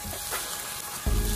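Beaten eggs and bitter melon fry slowly in a pan with a soft, steady sizzle, and a brief thump near the end.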